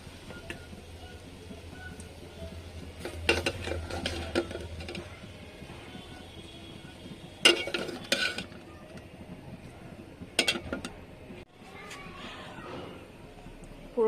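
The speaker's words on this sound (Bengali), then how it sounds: "সিদ্ধ করা বেগুনটা আমি একটা বাটিতে তুলে নিচ্ছি।" Boiled eggplant is lifted into a bowl in a home kitchen, with a few sharp clinks and scrapes of a utensil against dishware. The clinks come in scattered clusters over quiet room tone, with faint speech.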